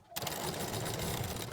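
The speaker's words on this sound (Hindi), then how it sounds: "फिर सिलाई लगाना चालू करेंगे।" Sewing machine stitching the lining of a blouse, a fast steady whirring rattle of the needle running continuously at close range after a brief start, with no pauses.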